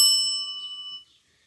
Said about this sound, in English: So good loud bell.